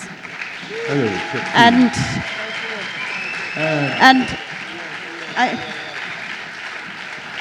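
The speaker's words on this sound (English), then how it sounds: "please give them another round of applause" Festival audience applauding for the Jolly Boys at a reggae event, the clapping swelling in scattered bursts under an announcer speaking over a microphone.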